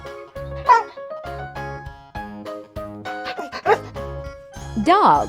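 A dog barks several times against a backdrop of bright, tinkling music, the loudest bursts near the start, middle and end.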